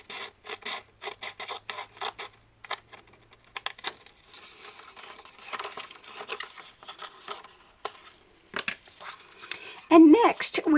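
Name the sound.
scoring and folding paper for a craft page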